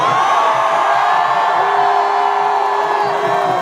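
A large crowd cheers and whoops continuously at a Baltimore Ravens send-off rally, loud and dense with overlapping yells throughout.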